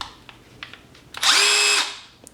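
Milwaukee M12 impact drill with a 4.0 battery spins up in one short, loud, steady whine for about half a second, then stops, with light handling clicks before and after.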